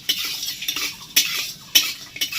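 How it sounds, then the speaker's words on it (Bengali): A metal spoon scrapes and clinks against a pan as whole spices fry, including cardamom, mace, cumin and bay leaf. Sharp strikes land every half second or so over a soft continuous sizzle. "এবার এটাকে হালকা ভেজে নেব"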